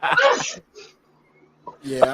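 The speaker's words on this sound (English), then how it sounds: "Bless whoever's sneezing." A quick sneeze from someone off to the side cuts in during a casual wrestling podcast chat, with voices talking around it.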